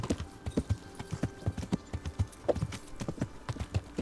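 A horse gallops in Kingdom Come: Deliverance, its hooves landing in a quick, steady clip-clop rhythm, close and distinct, with no speech.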